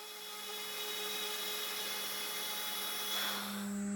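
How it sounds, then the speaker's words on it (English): A Makita laminate trimmer router with a guide fence cuts chipboard panels in half, a loud high-pitched steady whine that holds close and constant, with the load shifting slightly near the end. "Here I'm using the Makita laminate trimmer router with a guide fence to cut the chipboard panels"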